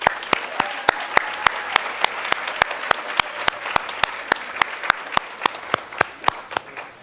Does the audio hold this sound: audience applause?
yes